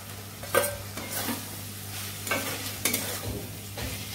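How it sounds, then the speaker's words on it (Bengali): Paneer and ground garam masala being stirred in an oily pan, with repeated scraping strokes of a spatula over a low steady sizzle, fairly close and without talk. "নাড়াচাড়া করে নিচ্ছি"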